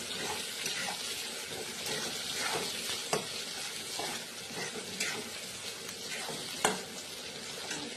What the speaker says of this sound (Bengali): লালচে লালচে করে পেঁয়াজটা ভাজা হোক